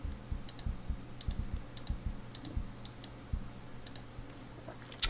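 Computer keyboard keys and a mouse click while working in Photoshop: a sparse series of light, close plastic clicks and taps at an irregular pace, with a sharper cluster of clicks at the end, over quiet room hum.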